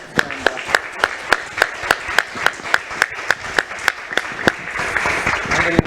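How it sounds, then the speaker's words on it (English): Applause for a conference panel on India's sustainable future, with a few distinct nearby claps in a steady rhythm over softer crowd clapping that swells slightly toward the end. "Please give them a round of applause."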